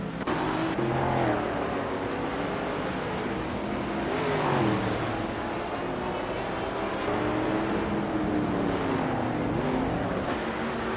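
A 1971 Plymouth Barracuda Hemi runs a racing lap in a video game, its engine revving and shifting in rising and falling sweeps, with other cars and faint tire noise around it.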